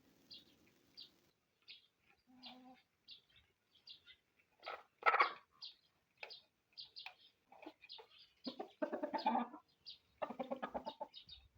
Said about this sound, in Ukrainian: Кури на сонечку гріються.